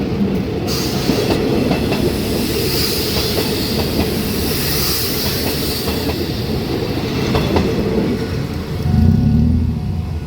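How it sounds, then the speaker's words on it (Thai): Diesel railcar train passing close on a Thai railway line, a loud continuous rumble of wheels on track with rhythmic clickety-clack and a faint horn-like tone near the end. "กระบินบุรีเป็นรถดีเซลรางอีกขบวน"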